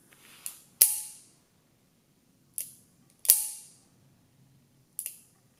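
Revolver mechanism during an IDPA equipment safety check gives four crisp metallic clicks in two pairs, the cylinder closing and the trigger snapping, each sharp and close with a short ringing tail, over a faint low room hum.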